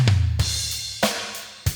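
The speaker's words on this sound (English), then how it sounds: "So the drums, they sound like this." An 80s city pop drum beat from a free drum VST, with a punchy kick and snare hits followed by sparse accented beats and shimmering cymbal wash, heard alone.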